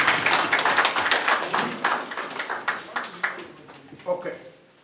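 A church congregation at a marriage ceremony claps together, a run of sharp hand claps that thins out and scatters toward the end, with voices speaking around it.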